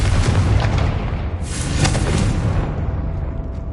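A Confringo fire spell from Hogwarts Legacy bursts as a loud, sustained boom, a dense explosive rumble with a brighter crackling flare partway through that fades into a lingering roar.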